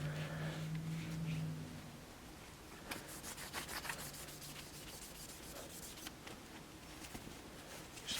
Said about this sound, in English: We get to the bolt and we wipe the bolt down real good.